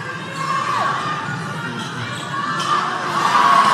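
A netball crowd at the Fiji v Tonga grand final cheers and shouts steadily throughout, a dense roar of many voices that swells louder toward the end, with a few higher shrieks rising above it.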